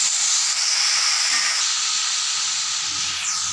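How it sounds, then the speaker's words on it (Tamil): Onions, green chilies and curry leaves sautéing in a hot pan, a steady loud sizzle and hiss throughout with no talk. "இப்போ பச்சை மிளகாய் வெங்காயம் கருவேப்பிலை எல்லாம் போட்டுக்கலாம் இது நல்லா வதங்கட்டும்"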